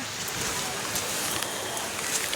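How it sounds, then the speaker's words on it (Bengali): Heavy rain pouring steadily, a dense broadband hiss close by with scattered sharper drops and patters, unbroken for the whole short stretch. "প্রচণ্ড বৃষ্টি হচ্ছে"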